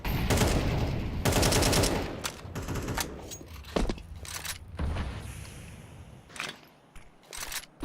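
Shotgun blasts and other gunfire in Rainbow Six Siege during an ESL Impact League esports match, with heavy bursts early on giving way to scattered single shots and clatter that fade and then return near the end.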